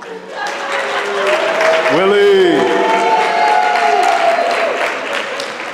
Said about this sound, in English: Can y'all just do me a favor and clap it up for Mr.